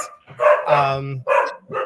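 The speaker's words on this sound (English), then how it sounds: "The dogs are going crazy. They're so excited." Excited dogs bark and yip in a quick burst of loud, close, tonal woofs with short gaps, no other sound around them.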